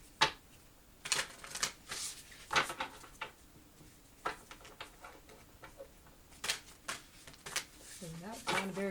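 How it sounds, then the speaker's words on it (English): Tarot cards shuffled by hand in irregular bursts of crisp riffling and slapping, close and fairly quiet, with brief pauses between the bursts. "Not a very good shuffle, was it?"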